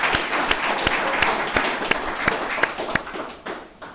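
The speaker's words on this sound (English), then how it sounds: "Let's give David another round of applause." Crowd applause at a recovery services alumni meeting fills the space with dense, steady clapping, sharp individual claps standing out, fading slightly toward the end.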